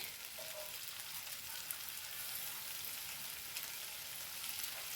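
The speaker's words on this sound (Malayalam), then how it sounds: "വെളിച്ചെണ്ണ ഒഴിച്ച് കൊടുക്കാം കരിവേപ്പിൻ്റെ അരി ഇട്ട് കൊടുക്കട്ടെ" Curry leaves fry in hot coconut oil, a steady, even crackling sizzle that hisses on without pause, fairly soft and close, with no voices over it.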